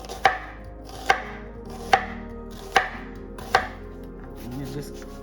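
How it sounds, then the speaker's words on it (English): A knife chops vegetables such as bell peppers for a homemade Chicago-style deep dish pizza. It strikes a cutting board in five evenly spaced, crisp thuds, close and clear, with light handling noise afterward. "So let's get this all cut up."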